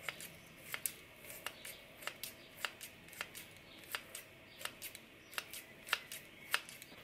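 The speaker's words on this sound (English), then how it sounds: "Get my kitchen scissors and cut it up" Steady, rhythmic snips of kitchen scissors cutting up food, about two per second, crisp and close in a quiet room with no voices.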